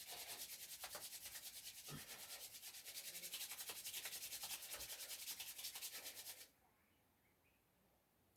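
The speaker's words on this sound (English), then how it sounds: "Bring your hands back together, let's give them a rub." Two palms rub briskly together close up, a continuous dry swishing friction that holds steady for about six seconds and then stops abruptly, leaving near silence.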